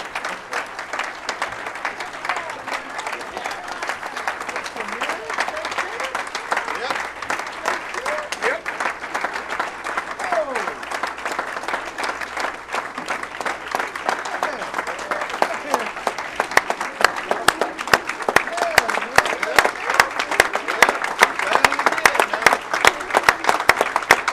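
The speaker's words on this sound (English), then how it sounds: "You're allowed to clap." Banquet audience at a school sports awards dinner applauding a Division III state championship team, steady dense clapping that grows louder and sharper toward the end.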